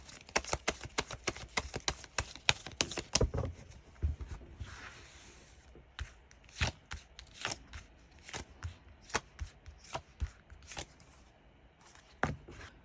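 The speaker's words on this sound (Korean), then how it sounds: "먼저 여러분들의 현재 상황, 이번 메이트님들의 현재 상황에 대해서 카드를 뽑아보도록 할게요" Tarot cards shuffled and drawn by hand, a quick run of crisp riffling flicks followed by scattered separate card snaps and slides, close and fairly quiet, no talking.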